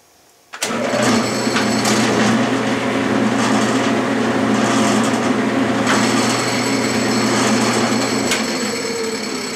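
Metal lathe running in direct drive after pull gear reassembly, starting abruptly and holding a steady, loud mechanical whir with a continuous hum and faint rattling, alone with no talk.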